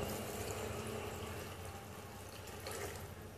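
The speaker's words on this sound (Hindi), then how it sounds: "अब इसमें डालेंगे 2 कप पानी" Two cups of water are poured into a raw keema mixture seasoned with salt, red and black chilli powder and whole garam masala, giving a steady, close splashing pour that runs the whole time.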